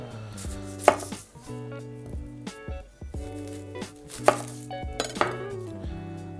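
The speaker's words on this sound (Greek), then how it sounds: "Ας ξεκινήσουμε λοιπόν να κόψουμε το κρεμμύδι." A knife chops an onion on a cutting board in a Greek kitchen, with a steady run of close, crisp blade strikes and a few sharper knocks. Faint tonal music plays underneath.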